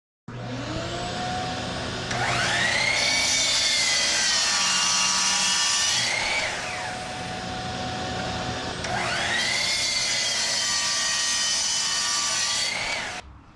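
Power saw cutting plywood boards for cornhole boards, two long loud passes each with a rising motor whine, a brief dip between cuts.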